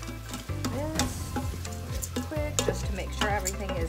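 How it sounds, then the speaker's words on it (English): Jambalaya ingredients with diced tomatoes being stirred in an Instant Pot: quick, close scraping and light sizzling strokes repeat throughout, with background music underneath. "I'm gonna mix this around before I add everything else."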